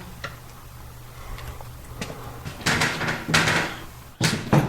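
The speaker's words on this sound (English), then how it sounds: "And just like last time, as soon as you open this door" A door is opened with soft ticks and clunks at first, then louder thumping bursts of movement that rise toward the end.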